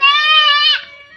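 A goat being held down gives one loud, close, strained bleat that lasts close to a second and then trails off into quiet.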